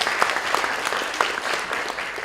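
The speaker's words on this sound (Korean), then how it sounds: "여러분 모두 위해서 한번 박수 한번 보내드리겠습니다" Dense crowd applause at a Korean next-generation conference gathering, many hands clapping steadily and close, with a few louder individual claps standing out throughout.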